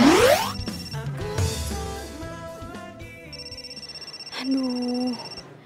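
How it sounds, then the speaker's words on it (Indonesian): Mobile phone ringtone with bright repeating electronic tones, playing at moderate loudness amid a dramatic TV scene with background music. "gue gak mungkin angkat telepon Vino di depan lo"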